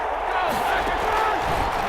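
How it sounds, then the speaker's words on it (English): Stadium crowd noise in the Madden NFL 21 football video game swells steadily as a big third down approaches, a dense continuous roar of cheering that holds at a loud level throughout. "the crowd getting into it as we come up on a big third down"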